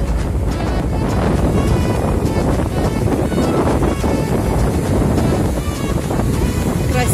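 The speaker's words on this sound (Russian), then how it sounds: "прям дует холодный ветер" Strong, cold wind roaring and buffeting the microphone nonstop by the sea at Dzhemete during a storm, with a low rumble of surf underneath.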